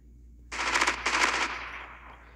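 Automatic gunfire from a weapon in the Call of Duty Mobile video game, two loud rapid bursts close up, separated by a brief gap, with game effects trailing behind.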